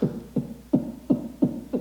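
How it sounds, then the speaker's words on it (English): Rhythmic diaphragmatic contractions during a breath hold, six low thumping spasms about every third of a second, each a short muffled pulse, close and fairly quiet with no talking. "you'll start getting what are called diaphragmatic contractions"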